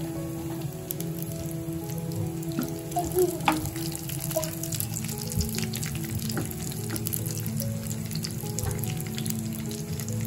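Small coconut pieces sizzle in hot oil, tempered in a pan for a village-style palm jaggery pongal: a continuous fine crackle with scattered pops and a few soft stirring touches, moderately quiet.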